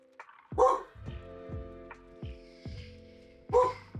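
A dog barks several times, with a loud sharp bark near the start and another near the end, plus softer whimpering yips between them, heard indoors.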